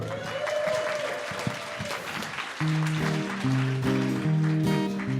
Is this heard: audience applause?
yes